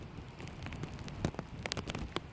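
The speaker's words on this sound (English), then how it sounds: "It's a sign that here comes the rain" Rain falls at a camp, with scattered close drops tapping sharply on a surface over a soft, steady hiss, all fairly faint, and no talking.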